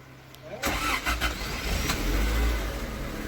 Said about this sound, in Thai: มาดูสตาร์ทกันนะครับ